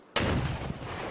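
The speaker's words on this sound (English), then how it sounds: "these mortars are all pretty off" A single mortar round fires in the Combat Mission: Battle for Normandy war game, a sudden sharp boom followed by a rolling, decaying rumble.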